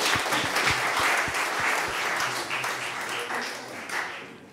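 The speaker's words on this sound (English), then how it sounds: "And with this, I think we would like to give another round of applause to Bart for this brilliant, brilliant presen" A conference audience applauds after a presentation on the artificial kidney: sustained, dense clapping from a sizeable crowd lasting several seconds, with a few sharper individual claps standing out near the front.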